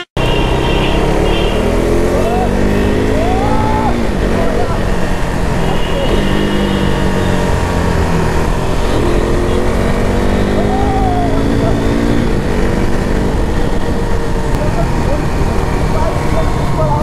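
Motorcycle engine of a 390-class bike, recently serviced with raised power, running steadily throughout a test ride on a road, with traffic noise around and a voice talking over it.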